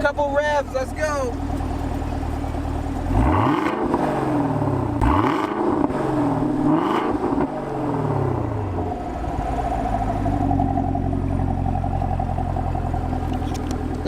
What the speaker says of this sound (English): Couple revs, let's go.